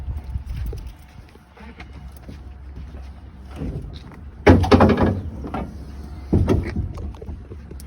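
A Class A truck's hood is swung open from the front during a pre-trip inspection: latch clunks and a loud rattling swing in the middle, then another thump, over a steady low rumble.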